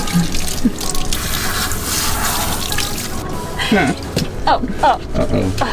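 Water runs steadily from a tap into a small sink in a van while a dog is washed, splashing and dripping up close, with voices and whimpers heard over it.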